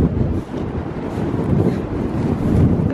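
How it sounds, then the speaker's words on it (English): Strong wind blows across an outdoor walk with a dog, roaring as heavy, gusting buffeting on the microphone that rises and falls continuously, with no voices heard. "It's so windy!"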